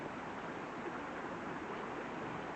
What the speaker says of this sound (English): But this is my creek.